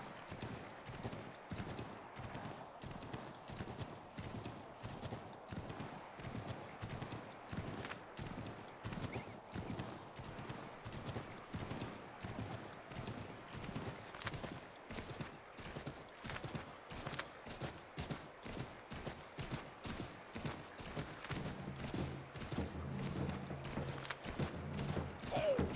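Horse hooves clip-clop steadily in Assassin's Creed 3, a quiet, even walking rhythm that carries on for a long stretch with faint background noise.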